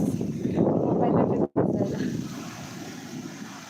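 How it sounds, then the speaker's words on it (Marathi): Rain and gusting wind roar in a low, rumbling wash during an evening storm with lightning, broken by one sharp momentary dropout before the blustery noise resumes. "भरपूर पाऊस आलाय वारा पण आलाय"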